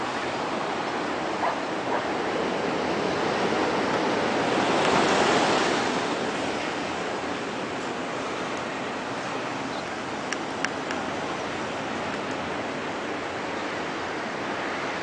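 Ocean surf breaks beside a pier at sunrise, a steady loud wash of rushing waves with a swell in roar midway, brief faint sounds over the constant hiss; no talking.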